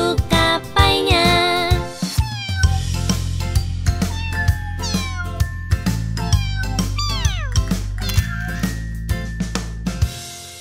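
Cartoon cat meows sung and voiced within a children's song, repeated melodic meow calls over a steady bass and music backing, no separate talking.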